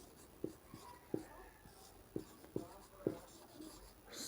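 Pen or chalk writing by hand while working through a linear equation in a math lesson, several distinct strokes in an uneven rhythm, close and soft, no talking.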